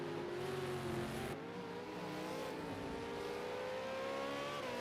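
V8 Supercar race cars snarl through the Esses at Bathurst in a racing video game, the engine whine climbing and dropping with gear changes, loud and continuous up close, with no voices.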